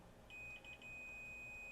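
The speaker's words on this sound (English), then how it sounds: "I get continuity beep on the meter." A multimeter gives a steady, high continuity beep during a test on a Sony CCD-V701 8mm camcorder circuit board. The tone is sustained and fairly faint over a low background hum, with a few short blips at its start.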